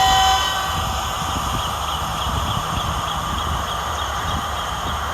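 A train at Great Western station in the Sri Lankan hills rumbles along with rhythmic clattering of wheels on rail, steady and fairly loud throughout, with a brief high tone at the start.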